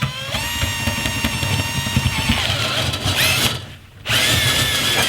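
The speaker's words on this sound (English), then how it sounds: "so you can hear already it's kind of strimming the inside of that flue pipe" A power drill whirs steadily as a chimney sweep brush spins and scrapes inside a wood-burning stove's metal flue, briefly dropping off before revving back up.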